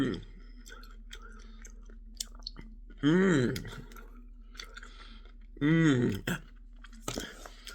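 Someone eating Häagen-Dazs caramel ice cream with a wafer, with two loud bursts of crunching and chewing close to the mic amid quieter mouth clicks and low background hum.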